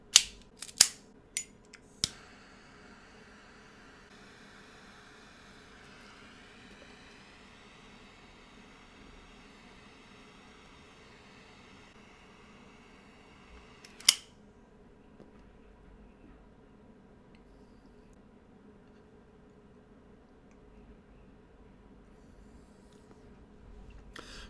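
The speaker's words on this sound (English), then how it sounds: "the only way to find out is with a cut and a light" A Southern Draw Manzanita Toro cigar is cut with a few sharp snips at the start, followed by a soft hiss of lighting and a single click later, close and quiet.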